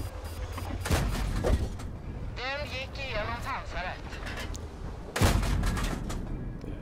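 World of Tanks gameplay with tank cannon shots booming, a heavy blast near the start and another sharp loud report toward the end, amid game effects and a voice speaking in between.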